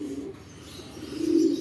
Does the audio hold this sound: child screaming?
no